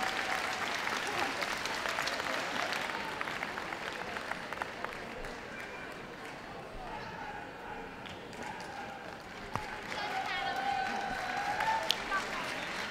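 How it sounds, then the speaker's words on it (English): Audience applause at a Ladies Kennel Association dog show as best of breed winners leave the ring, sustained clapping from a large indoor crowd lasting throughout. "Ladies and gentlemen, put your hands together for the best of breed winners leaving the ring."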